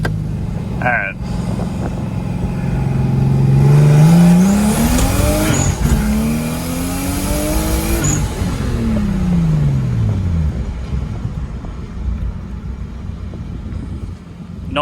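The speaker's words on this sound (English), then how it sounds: "I want to hit boost once while we drive it down there" A tuned BMW car, fitted with an M5 DSC pump and a new fuel pump, accelerates hard on boost with rising, sweeping engine tones that peak and fall back, loud and close, with a short chirp near the start.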